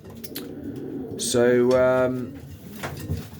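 Racing pigeons coo in a loft at pairing-up time, a drawn-out harmonic coo swelling loudly in the middle of the stretch, with a man's brief word before it and softer bird noises around.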